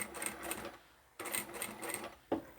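A sewing machine runs in short bursts, stitching fabric for a small drawstring pouch, its needle chattering rapidly in two longer runs separated by a pause, close and clear with no speech.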